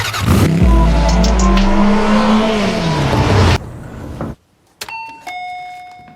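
A doorbell chimes at a front door, two clear electronic tones ringing out near the end, right after a loud car engine roars and sweeps past.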